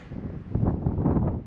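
Wind gusts across the exposed side of a mountain lookout platform, a low buffeting rumble that swells after a quieter start and stays rough to the end.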